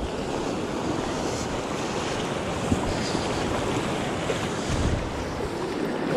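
Sea waves churn and break in the surf during a bass fishing outing, a loud, continuous wash of noise mixed with wind buffeting, with no speech.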